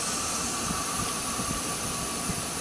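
Steady broadband hiss of compressed air venting as both air brake valves are released on a commercial vehicle during a brake check, continuous and fairly loud with low rumbling underneath, no talk.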